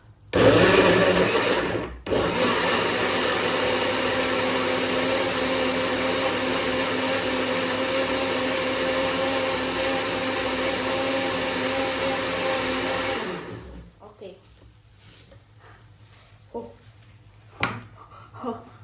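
A loud, steady motorized whir runs for about thirteen seconds, briefly cutting out early on, then stops, leaving quiet clatter and a few soft knocks.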